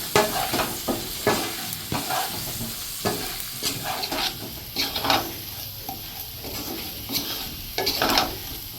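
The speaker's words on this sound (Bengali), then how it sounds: "আমি ভালো করে এগুলো ফ্রাই করবো মশলাগুলো" Turmeric and Kashmiri chili powder fry in oil for a hilsa and taro curry, a loud, close sizzle punctuated by brisk, rhythmic stirring and scraping of a spatula against the pan, with no talking.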